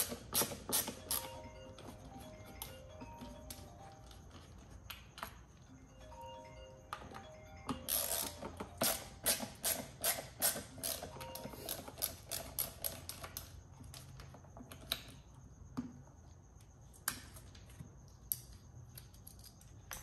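Torx 20 bolts being loosened and removed from a Tesla Model Y door panel, a close series of sharp metallic clicks and ratcheting ticks, sparse at first, then a dense rapid run, with pauses between bursts.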